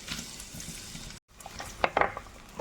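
Five or six finely chopped small shallots drop into hot coconut oil, giving a soft steady sizzle with a brief break, then clinks of a spoon stirring against the pan.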